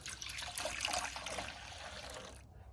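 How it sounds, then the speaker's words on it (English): Warm tap water pours steadily into a container of lemon juice for cleaning brass, a soft continuous trickle and splash, close and fairly quiet, that stops abruptly at the end. "Right, we put some water in it. This is just warm tap water."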